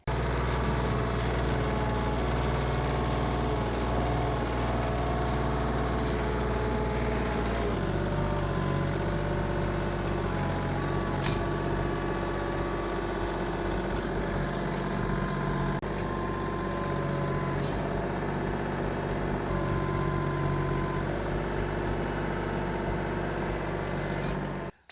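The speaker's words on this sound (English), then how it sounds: "So let me get the smaller tractor in the bucket and we'll start pulling all this dirt back away from this." Small tractor with a bucket working dirt away from a tree stump, a continuous diesel engine drone that shifts in pitch and load at several points, with occasional clanks.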